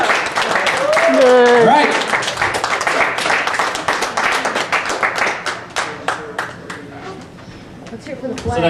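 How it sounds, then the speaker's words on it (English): An audience at a circuit-bending showcase at Madison Pop Fest 2007 claps for a band, crisp close hand claps that build and then taper off, with someone speaking over the start. "Give them another round of applause."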